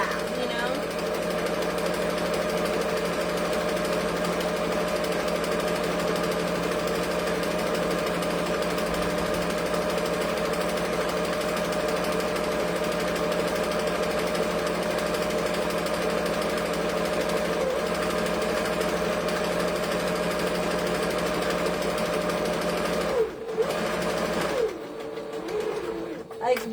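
Fast home sewing machine stitching straps, a continuous mechanical whir and rapid needle hum running steadily at close range for over twenty seconds, stopping briefly near the end.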